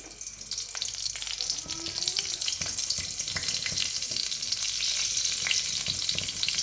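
Nigella seeds and a green chilli temper in hot oil for a hilsa fish curry, crackling and sizzling steadily close by with scattered sharp pops and light clinks.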